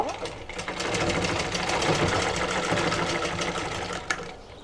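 Up close, a sewing machine double-stitches a placket strip on a size 40 blouse, a loud continuous whirring run, with a voice talking faintly over it.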